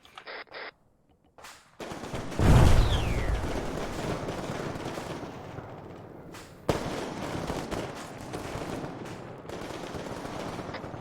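Gunfire aimed at an armoured personnel carrier in a military shooter: a heavy blast, then dense sustained automatic fire and rumbling booms, loud and continuous after a few brief beeps and a short quiet gap.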